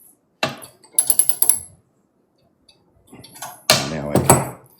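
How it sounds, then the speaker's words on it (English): A ratchet wrench loosens a tight blade guard on a budget scroll saw, giving two bursts of rapid clicking ratchet strokes with a pause between, close and fairly loud, with no talking. "I ended up using a ratchet"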